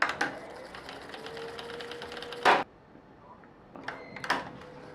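A reel-to-reel tape recorder rewinding: a close mechanical whir with a thin steady tone, a sharp clunk partway through, then a quiet lull followed by a few clicks and knocks from the machine.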